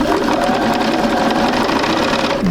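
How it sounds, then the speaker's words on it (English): A sewing machine stitches a quilt seam crosswise over an earlier one, a loud, steady, close mechanical whir running unbroken from start to finish with no talk. "I'm going to sew right to the very end, crisscrossing the seam I just did."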